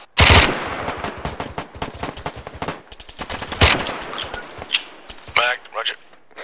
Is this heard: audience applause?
no